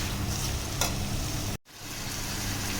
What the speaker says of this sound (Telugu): చికెన్ కూడా బాగా ఫ్రై అయింది